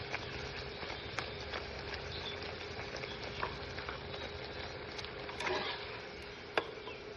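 Flour dough frying in a pan at home, a steady dense sizzle with occasional crackles and pops, close and continuous throughout with no talking.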